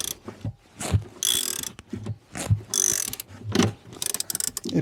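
A ratchet wrench loosens a bolt on a Tesla. Bursts of close, loud pawl clicks alternate with short pauses in a quick back-and-forth rhythm, with no voices.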